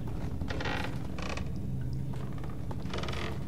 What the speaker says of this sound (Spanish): Y estas maderas hacen un ruido...